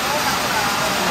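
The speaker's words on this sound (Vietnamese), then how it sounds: "Rồi mưa lớn quá trời. Mưa hơi bị ồn nha các bạn" Heavy rain pours down in a dense, loud, unbroken hiss that fills the short moment, with a voice faintly present beneath the downpour.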